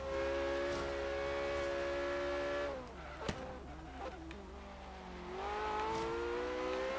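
Sustained car engine note at full throttle in the racing game Forza Horizon 3, a steady loud tone that dips mid-way as the car lifts off, with a brief clack, then climbs back to a strong continuous drone.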